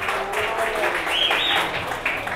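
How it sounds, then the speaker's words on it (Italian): Spectators at an amateur football match between Mazara and Castellammare applauding a substituted player, a brief patch of crowd clapping under a commentator's voice. "Esce tra gli applausi Bulaves"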